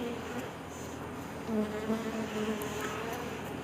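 Honeybees buzz around frames of a beehive, a dense, continuous close drone with a few individual bees swelling louder as they pass, and no talking.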